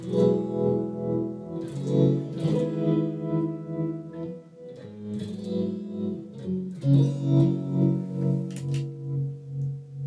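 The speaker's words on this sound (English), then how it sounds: "I've also got my lovely little tremolo here, which is the Shapeshifter." Electric guitar chords played through a Shapeshifter tremolo pedal, the rhythmic tremolo making the volume pulse and throb steadily, played alone without talking.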